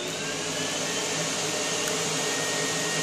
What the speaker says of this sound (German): Dann nehmt ihr euch den Staubsauger in die Hand.